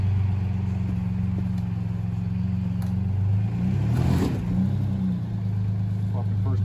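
A Pathfinder's engine idles with a steady low hum as it backs out in reverse, swelling slightly midway, with voices talking over it.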